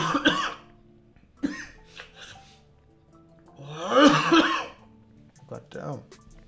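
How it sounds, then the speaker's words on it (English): Several coughs break out during a live coding session at a desk, a sharp burst early, a louder harsh cluster in the middle and a shorter one near the end, set apart by quiet pauses. "Where did that cough come from?"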